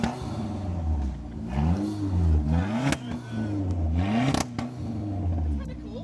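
A 1973 MG Midget's engine revs up and down repeatedly, climbing and falling in pitch over a rough, throaty idle, loud and close, with several sharp bursts.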